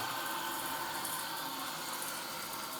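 Hot water running from a kitchen tap with a newly fitted gooseneck spout, fed by an electric water heater, a steady continuous hiss of flowing water close by with no talking.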